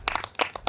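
A congregation at a Telugu Christian fasting prayer meeting claps in quick rhythmic unison, about seven sharp, close claps packed into under a second.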